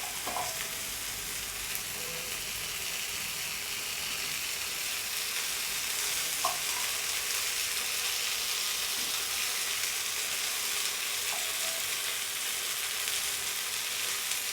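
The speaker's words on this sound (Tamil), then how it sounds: "ஸ்லிம்மில் வச்சு இதை ஃப்ரை பண்ணணும்" Paneer tikka fries in oil on an iron tawa over a low flame, giving a steady, even sizzle that holds for the whole stretch with no talking.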